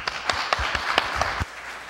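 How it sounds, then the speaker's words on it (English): An audience at a 2010 county commission candidate forum claps for the candidates, a short, dense, moderately loud patter of overlapping claps that stops abruptly after about a second and a half. "May we close with a round of applause for all the candidates."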